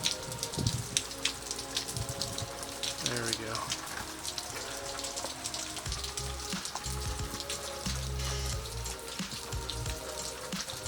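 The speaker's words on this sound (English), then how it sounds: "It's pouring rain." Heavy rain pours steadily in rural Kentucky, a dense hiss of drops drumming on surfaces close by, with a few brief spoken words over it.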